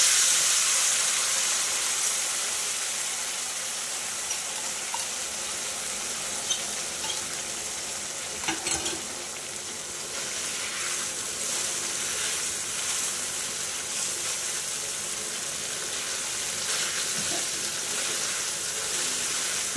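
Spice paste sizzling in a pan for hilsa fish curry, a steady bright hissing fry lasting throughout with occasional soft stirring scrapes and clinks, close and alone.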